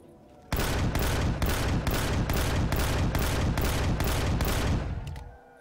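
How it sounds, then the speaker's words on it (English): Rapid automatic gunfire from the space survival game Empyrion: Galactic Survival hammers out about a dozen loud, evenly spaced shots in a rhythmic burst, then stops. "One more shot all to take that turret out."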